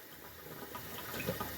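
A small makeup brush washing machine spins in water, giving a faint, steady swishing and churning wash with soft liquid gurgles, close and uninterrupted.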